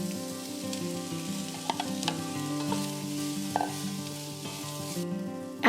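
Onions and mushrooms fry in olive oil, giving a soft, steady sizzle close by, with a few sharp clinks and scrapes of a utensil stirring the pan.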